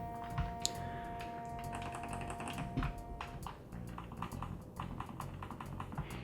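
Buttons pressed on a PlayStation 3 prototype controller, a quick irregular run of small dull plastic clicks and taps close up, with brief pauses between bursts.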